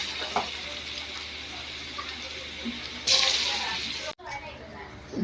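Dhoka lentil cakes dropped into hot oil, a continuous sizzle that surges into a louder burst of frying partway through, then cuts briefly and resumes, with a voice speaking.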